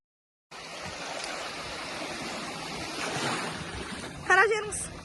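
Sea waves wash onto a beach of clear, warm water as a steady, broad surf hiss that starts abruptly and continues at moderate loudness, with a brief voice near the end.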